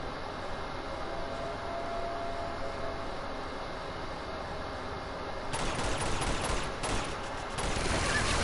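Sustained automatic fire in Uncharted 2: Among Thieves, with a minigun firing in the game. A continuous dense roar of rapid gunfire builds and grows louder partway through, with bursts of heavier blasts.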